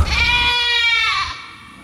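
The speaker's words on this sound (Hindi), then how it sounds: "हर आहुति के साथ बकरी जैसे चिल्लाती थी" A goat bleats loudly and close, one long wavering harmonic cry that fades at the end, with no talk over it.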